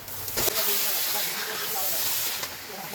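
Marinated chicken goes into hot oily masala in a pan for Bengali chicken gravy, bringing a loud, steady, close sizzling hiss that lasts throughout.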